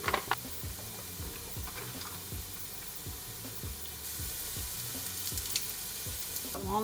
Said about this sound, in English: While that sizzles down